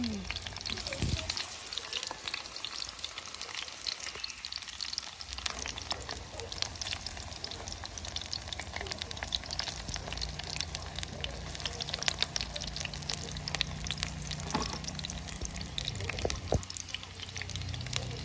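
Eggplant fries in a pan with a steady, close sizzle and crackle, broken by occasional stirring and scraping, continuing evenly for about eighteen seconds.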